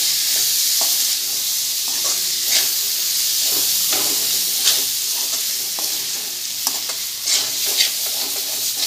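Pawta beans being stirred into hot masala for usal, a steady loud sizzle and frying hiss with soft scraping stirs throughout, close and uninterrupted.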